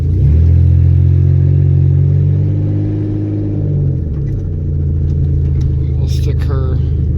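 An abandoned 1979 Chevy Impala on its first drive, its engine droning in a loud, steady low hum that dips and shifts pitch midway. The exhaust needs replacing, and faint clatter sits over the rumble.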